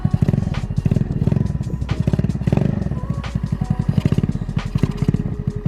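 Honda Ruckus Zoomer scooter fitted with a GY6 150cc engine, idling up close with a rapid, even putter that surges slightly, running steadily alone.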